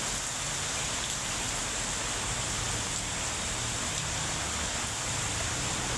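Steady morning rain falls without a break, a continuous even hiss of drops washing over everything, with no voices.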